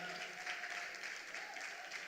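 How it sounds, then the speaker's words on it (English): An audience at a talk claps steadily and fairly loudly for a speaker, a dense wash of hands throughout with no pauses and no one speaking over it. "Please, a round of applause for her."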